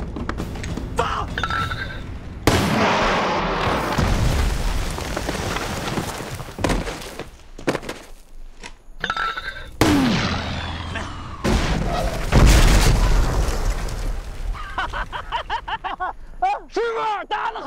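Artillery rounds fired in a war film battle scene, heavy booms and blasts breaking over shouted commands and voices, loud and near, with a sharp burst of fire near the end.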